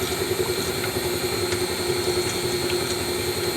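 An electric mixer beating banana pudding cake batter, a steady loud motor whine with a strong hum and faint clicks of the beaters against the bowl, continuous and close.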